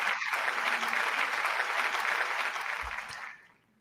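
A room of people breaks into a round of applause, dense steady clapping that holds loud for about three seconds, then fades quickly to near silence.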